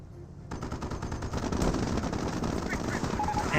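Sustained machine-gun fire in the Company of Heroes strategy game, aimed at a Panzer Grenadier squad, bursting in after a quiet moment and rattling on densely and loudly to the end.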